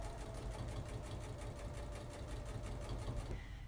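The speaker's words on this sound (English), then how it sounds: "we're going to sew this tie on" A sewing machine stitches a tie onto a cloth face mask, its needle running at a steady, fast even rhythm of close, continuous mechanical chatter until it stops at the end.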